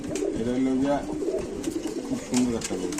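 Pigeons coo repeatedly in soft, low, throaty phrases at a busy pigeon market stall, close by and steady, while people talk over them.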